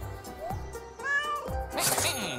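A cartoon cat meows in the moving-house video game Get Packed, a couple of short rising calls set among bright game music and sound effects, with a loud clattering burst near the end.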